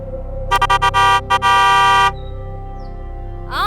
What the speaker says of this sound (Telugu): ఓ హారన్ కొడితే ఎలా?